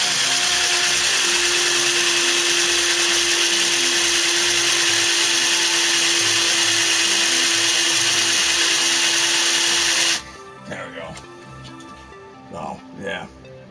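A power drill whines steadily and loudly as it bores a hole through an LG phone screen, then cuts off and leaves quieter knocks and handling noises.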